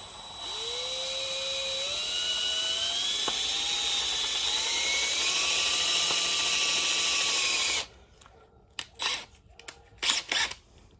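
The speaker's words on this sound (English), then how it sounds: "Now we're going to put the drill bit in. Start with a small drill bit." A power drill with a small bit whines steadily at high pitch for several seconds as it bores into a broken exhaust manifold bolt, its tone rising as it bites, then stops, leaving a few scattered clicks and scrapes.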